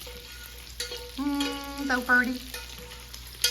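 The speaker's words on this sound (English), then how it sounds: "We're frying the bacon." Bacon fries in a pan with a steady, soft sizzle that continues throughout. A voice speaks briefly over it.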